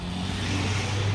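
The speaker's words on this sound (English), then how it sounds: "Scania coming around." Brief burst of a Scania truck's engine coming around and passing nearby, a loud low rumble with broadband road noise, no voices.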